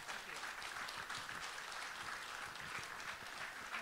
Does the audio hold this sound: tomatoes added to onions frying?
no